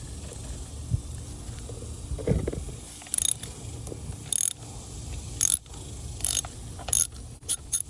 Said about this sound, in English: You're gonna twist it with the ratchet until you can twist it by hand